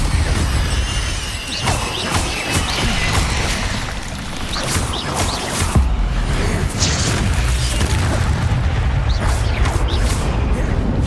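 A fire spell cast in the Hogwarts Legacy video game: a loud whooshing, roaring burst with crackling sparks over a dense booming cave ambience.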